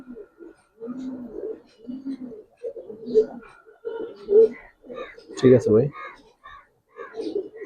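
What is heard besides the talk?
male Giribaz pigeon cooing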